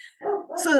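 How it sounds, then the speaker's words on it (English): A dog barks in a short yelping burst, fairly close, with a brief voice just before it. "If you can hear my dog barking, it's the postie."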